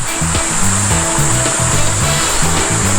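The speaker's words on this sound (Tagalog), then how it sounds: "dinig-dinig mo yung daloy ng tubig dito" Flowing river water at a scenic spot in barangay Kutmo, a steady broadband rush that stays loud and constant throughout, with low, rhythmic tonal sounds running underneath.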